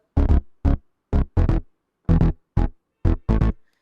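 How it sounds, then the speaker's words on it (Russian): Deep electronic bass notes without sidechain pulse in a choppy rhythmic pattern, short punchy hits separated by brief silences, loud and close with no voices. "Вот смотрите, бас, если без сайдчейна, звучит вот так."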